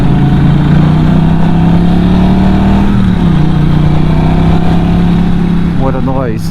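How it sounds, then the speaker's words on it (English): Norton Commando 961 SP motorcycle engine giving a steady low growling rumble, loud and close throughout, with a slight shift in pitch midway and a brief rising rev near the end. "the rumble. Can you hear that? It's just like a low growl and rumble."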